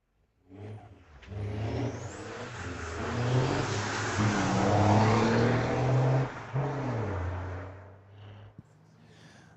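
Diesel pickups, a 2024 Denali and a Chevy with a swapped 5.9-liter Cummins, drag race at Mission Raceway Park, their engine roar swelling from a distance to a loud peak, then fading as they pull away.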